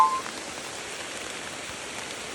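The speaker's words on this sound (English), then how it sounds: "So this rain's just started to fall." Rain that has just begun falling near an active volcano patters steadily on leaves and surfaces, a dense, even hiss of drops close by with no voices.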